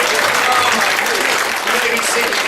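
Conference audience cheering and applauding, a dense, loud wash of clapping that fills the whole moment with scattered whoops mixed in.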